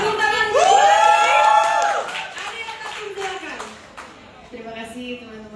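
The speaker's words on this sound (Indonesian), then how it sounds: "Berikan tepuk tangan" Press conference audience clapping and cheering, a loud burst of applause with whoops and voices over it, tapering off as a speaker talks.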